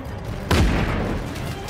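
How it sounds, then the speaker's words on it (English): A single heavy boom of gunfire in the video game Just Cause 3 cuts in sharply mid-clip and trails off into a lingering rumble. "who is shooting me?"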